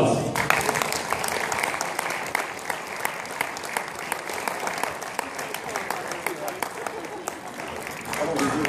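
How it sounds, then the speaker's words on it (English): Audience applause at an awards ceremony, dense steady clapping filling the room at close range, sustained evenly with no break for the whole stretch. "Give him a round of applause."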